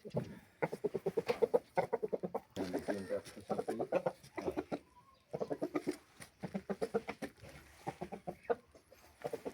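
Roosters and hens of a pure fighting breed at a poultry yard, crowing and clucking in repeated close bursts across the whole stretch, with no talk over them.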